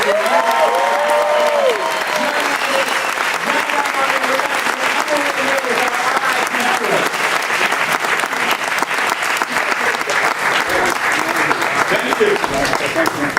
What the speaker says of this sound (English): Ladies and gentlemen, how about a big round of applause?